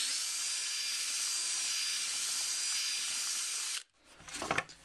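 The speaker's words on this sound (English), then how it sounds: "I'm actually using a 1/4 inch bit, so what I'm going to do is go ahead and kind of hone these out a little bit." A power drill with a 1/4 inch bit drilling holes for a homemade camera car mount, a steady high whine running for nearly four seconds, then a sudden stop and a short rough grinding burst.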